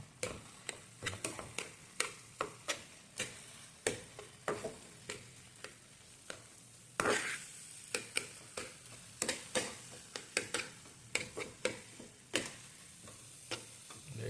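A spoon stirs semolina in a pan for egg upma, making regular scraping strokes about twice a second, close and fairly quiet, with a faint sizzle underneath and no talking.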